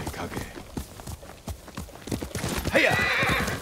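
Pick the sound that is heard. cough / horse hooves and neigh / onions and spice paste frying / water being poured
horse hooves and neigh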